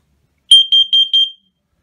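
Low-level carbon monoxide detector under test, beeping loudly in a quick group of four shrill, evenly spaced chirps with no talk.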